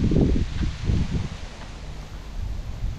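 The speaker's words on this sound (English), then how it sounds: "Wind is brutal." Wind blows outdoors during a walk, buffeting the microphone in low rumbling gusts with a faint rustle, steady and close, with no talking.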